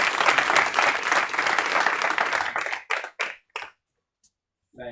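An audience at a BizTalk-to-Azure migration tech talk applauds a presenter taking the stage, a dense burst of clapping that thins into a few last scattered claps, then silence and a brief voice.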